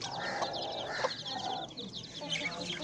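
A hen clucks near her chicks at a family's home, with several short clucks and chick chirps close by against steady outdoor background noise.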